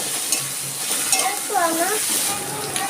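Chopped onions frying in a pan as a little chopped ginger goes in, a steady sizzle with a few stirring scrapes and faint clinks, close and moderately loud.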